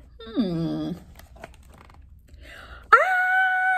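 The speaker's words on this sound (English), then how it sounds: "The shuffling sound began snuffling and then howling." A dog whines with a falling moan, sniffs quietly for a moment, then lets out a loud sustained howl, close by.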